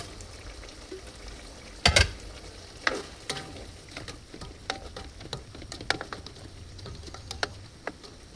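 Potatoes and carrots cook in a pan for menudo with hotdog, giving a continuous frying sizzle with sharp clacks of a spoon or spatula and scattered crackles, close and fairly loud, with no talk.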